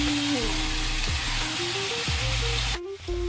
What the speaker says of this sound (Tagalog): Nagpaprito na ako ng aming hapunan.